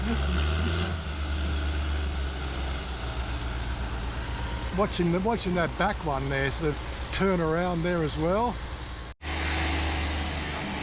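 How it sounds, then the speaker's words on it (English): A low, heavy boat engine rumble in Thailand runs throughout beneath someone talking, dropping out briefly near the end. "Bit of heavy engine noise going on there."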